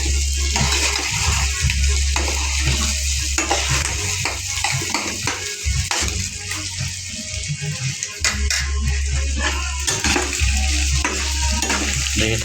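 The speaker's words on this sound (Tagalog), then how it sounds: "Kaya pinirito natin yung pisngi. Pisngi ng baboy." Pork cheek fries in butter in a pan, a steady loud sizzle with stirring and clattering of utensils against the pan throughout, no voices.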